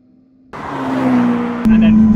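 A car accelerating hard, heard from inside the cabin: quiet at first, then a loud engine roar builds and climbs, with a sharp jump in pitch and volume near the end as the revs rise.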